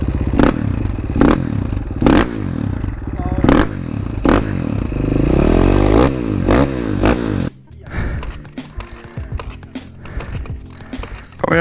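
A cheap road-legal two-stroke 125cc motorcycle engine revs in repeated sharp bursts, loud and close, then drops into rough, sputtering idle clatter toward the end.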